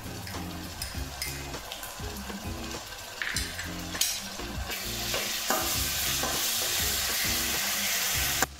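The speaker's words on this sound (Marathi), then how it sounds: "आता आपण यामध्ये मोठे 3 चम्मच अद्रक लसूणची पेस्ट व्यवस्थित टाकून तळून घेणार आहोत।" Ginger garlic paste frying in a pan for pav bhaji, stirred with a spoon: rhythmic scraping strokes over a sizzle that swells into a steady loud hiss by the end, no voices.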